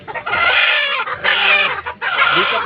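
Broody Rhode Island Red hens cluck loudly and close by in several dense, overlapping bursts with short dips between them, and no talking.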